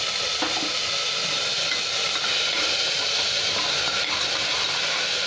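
Peas drop into hot spiced oil in a pan for jeera rice, giving a steady, even hiss of sizzling that continues throughout with no talk.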